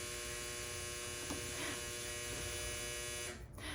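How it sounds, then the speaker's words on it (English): A household clothes dryer runs in another room with a steady electrical hum and buzz, faint and continuous, briefly dipping near the end. "that'd be the dryer."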